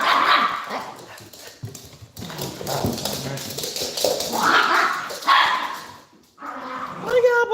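Dogs bark repeatedly at close range in a home, with a person talking among and over the barks throughout.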